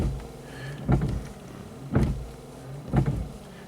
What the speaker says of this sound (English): The wipers will just keep going.